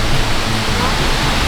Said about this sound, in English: Waterfall. Look at that. Tiny waterfall.